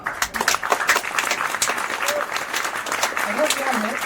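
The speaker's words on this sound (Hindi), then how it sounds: "इसके लिए तालियां।" Audience applause for a student answering a quiz question on a kids' general-knowledge quiz show in the style of KBC, a steady burst of clapping throughout with voices speaking over it.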